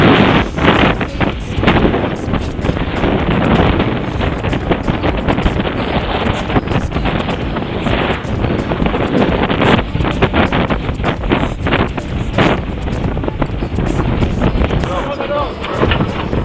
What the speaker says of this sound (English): we're under some serious wind here